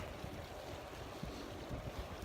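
Steady wind roars and buffets the microphone outdoors in a 2018 blizzard, a dense continuous rush with low thumps and no voices.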